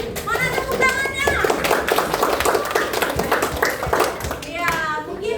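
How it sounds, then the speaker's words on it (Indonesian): A school class claps for a cooperative group's presentation, with sharp close handclaps in quick bursts mixed with children's voices chattering over them. "kasih tepuk tangan sekali lagi untuk kelompok koperasi sekolah. Mana tepuk tangannya?"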